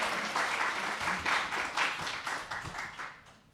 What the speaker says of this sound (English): don't know why everyone's clapping